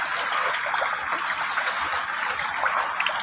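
Rainwater from a hailstorm gushes steadily into a drum as it fills, a continuous close hissing pour with no voices.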